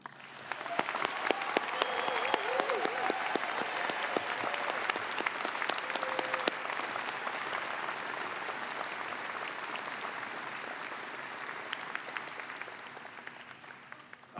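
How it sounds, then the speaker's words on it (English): Commencement crowd applauding the graduating Chase College of Law class of 2017, a long, steady round of clapping with a few cheers and whoops mixed in, tapering at the end. "Let me be the first now to ask everyone to join me in offering a round of applause"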